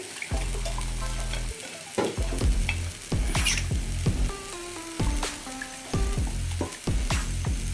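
A spoon scrapes around a pan in repeated stirring strokes over a soft sizzle of spinach gravy with added water cooking.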